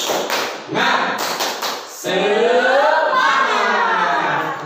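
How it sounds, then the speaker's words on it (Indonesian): A class performs a rhythmic cheer clap: a few loud, evenly spaced group claps open it, then the pupils shout the cheer together in a sustained, loud chorus of voices. "Ya, tepuk semangat."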